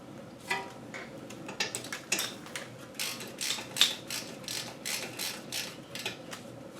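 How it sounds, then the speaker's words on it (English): 13 mm bolts on Audi Q5 front brakes being spun in by hand, producing a run of quiet, close metallic ticks and light ratcheting clicks in an uneven rhythm, with no speech. "these 13 mil, I'm going to tighten these by hand."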